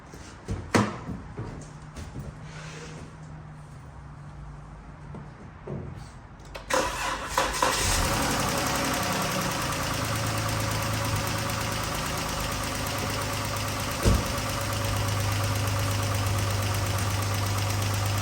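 A 2012 Chrysler 300's 3.6-liter V6 cranks and starts, then idles steadily with a fast, light rocker-arm ticking running through the running noise, close by.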